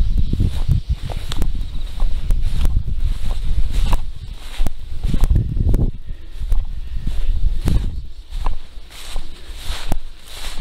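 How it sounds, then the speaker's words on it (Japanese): Outdoor wind gusting through a bamboo grove ahead of a typhoon, a loud, rough, fluctuating rush with rustling surges and a few sharp knocks, no talk. "ちょっと風がまた出てきました。"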